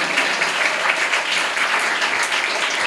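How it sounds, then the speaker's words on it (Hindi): An audience at a church sermon claps steadily, a dense, even wash of many hands with no pauses. "बहुत अच्छी बात है, आप तालियां बजाते हो।"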